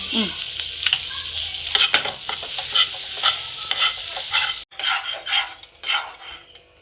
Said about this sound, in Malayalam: ബട്ടർ ഇട്ടു ഒരു സ്പൂൺ മൈദയോ